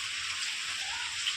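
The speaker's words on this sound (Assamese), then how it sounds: "এয়া বৰষুণ দি আছে" Steady rain falls outside over a rural home garden in Assam, a soft continuous hiss with no voices and no distinct drops standing out.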